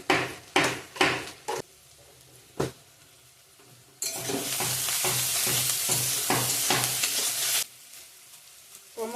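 Onions frying with salt and whole spices in a pan: several sharp metal taps and clacks, then a loud, steady close sizzle with scraping spatula strokes before it cuts off.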